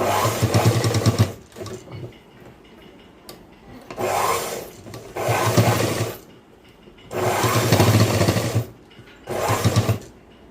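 Sewing machine stitching a boys' school uniform shirt, four loud bursts of rapid whirring stitches with short quiet gaps between them, close up and with no talking.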